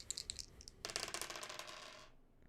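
A dice roll sound effect from The Sandbox game: a short, quiet rattling clatter with a first light tap, then a denser tumble that fades out.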